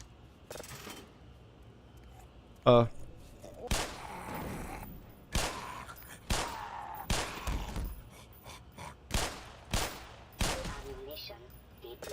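Gunfire in the Half-Life: Blue Shift video game, a series of sharp, separate shots spaced a second or so apart with a short rattling burst among them, fairly quiet and set against low background sound.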